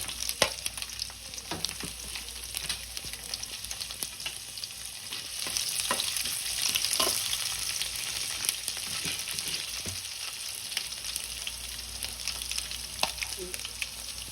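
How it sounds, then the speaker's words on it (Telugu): Garlic frying in hot oil with tempering spices for an amaranth leaf stir-fry, a steady close sizzle with occasional spatters and stirring taps. "పోపు కొంచెం లిటిల్ ఫ్రై అయిన తర్వాత గార్లిక్,"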